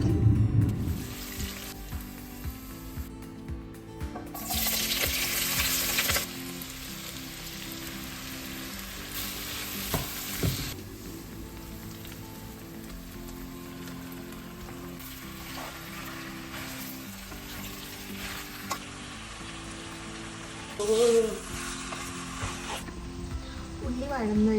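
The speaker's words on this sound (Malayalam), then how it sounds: "നമുക്ക് കുറച്ച് ഓണിയൻസ് നെയ്ച്ചോറിനും കൂടെ വേണ്ടിയിട്ട് ഫ്രൈ ചെയ്യാം" Onions frying in a pan for ghee rice, a steady soft sizzle running under a voice talking throughout, with occasional clinks and louder bursts of hiss.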